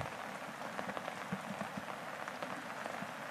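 Heavy rain pours steadily in Thodupuzha, Idukki, a dense, even hiss of drops hitting surfaces with scattered louder spatters, continuous and close throughout with no voices.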